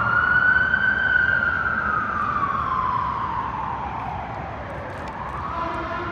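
A wailing ambulance siren rises and falls in a long sweep, heard from a distance over low traffic rumble in Los Angeles.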